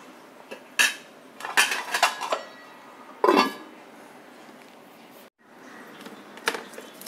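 A spoon scrapes and knocks against a pot of Kerala-style mashed jackfruit with salt added, followed by a lid clattering shut: a few quiet, irregular metallic clinks and clanks close by, with no talk.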